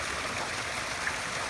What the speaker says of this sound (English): And there's a nice waterfall.